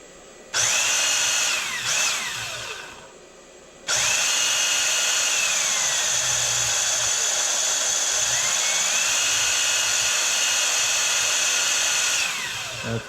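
A battery-powered Battle Pack toy gun motor in its low-speed gear whirs up with a shrill whine, cuts out briefly, then spins up again and runs steadily before winding down, loud and close.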